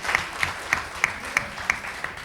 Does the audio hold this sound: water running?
no